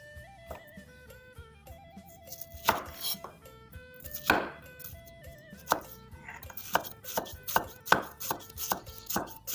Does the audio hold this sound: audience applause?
no